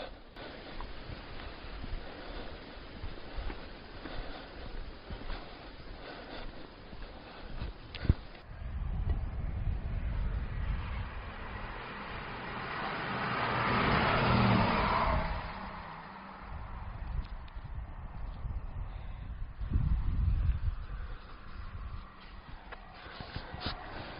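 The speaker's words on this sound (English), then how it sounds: "a 2-car northern train has passed, heading south from York" A two-car Northern passenger train passes along the East Coast main line south of York, heard from a bridge as a low rumble swelling and fading amid wind and outdoor ambience.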